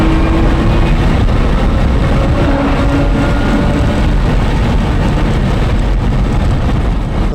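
Race car engine running warm-up laps at Monticello Motor Club, a private track in the Catskills, giving a steady loud drone throughout with low rumble and a faint rising tone partway through, no voices.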